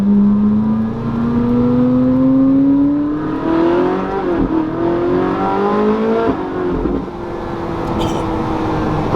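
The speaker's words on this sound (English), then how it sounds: "Nice little overrun right there." A Ferrari 458 Spider on its original exhaust revs hard from the cabin, the engine note climbing steadily, then dropping into overrun with crackles as revs fall, loud and close throughout.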